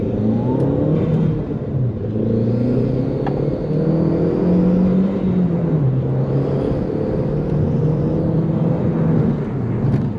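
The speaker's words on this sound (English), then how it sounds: "we're going to give this a whirl, see how we get on 0 to 60" Audi TT with boost problems and a suspected misfire accelerates hard from 0 to 60, heard from inside as a loud, sustained engine drone rising and dipping in pitch through the gears.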